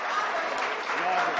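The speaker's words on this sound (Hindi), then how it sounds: "जोरदार तालियों से इस्तकबाल करें दोस्तों" Brief burst of dense clapping from the audience at an Urdu poetry mushaira, loud and close throughout.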